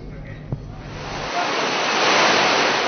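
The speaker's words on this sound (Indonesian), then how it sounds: "hujan disertai angin kencang melanda sebagian kota Jakarta" Heavy rain with strong wind in Jakarta, a broad rushing roar that swells and thickens over a few seconds after a brief low rumble, loud and continuous.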